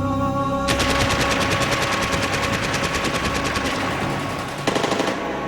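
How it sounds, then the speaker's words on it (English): Rapid automatic gunfire rattles nonstop at close range inside a house during the Iraq battle of Fallujah, a dense burst-after-burst exchange running almost the full length with a brief break near the end before another volley. "We exchanged fire on the landing"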